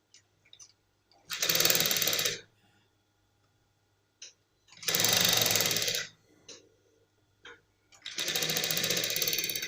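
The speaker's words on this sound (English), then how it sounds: "you stitch the pocketing, the underneath of the pocketing" A sewing machine stitches the underside of a trouser pocket lining in three separate loud, rapid bursts, with quiet pauses and small clicks of handling between them.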